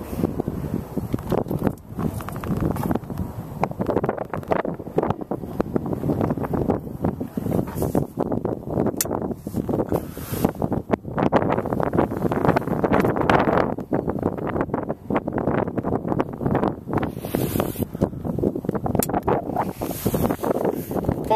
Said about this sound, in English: Apologise for the wind, guys.